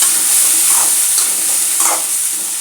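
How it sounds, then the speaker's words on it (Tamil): Onions, carrots and drumstick sauté in a pan for sambar, giving a loud, steady sizzle and hiss with a couple of soft stirring scrapes. "பாருங்கள், இதை சேர்த்து நல்லா வதக்கிடலாம்."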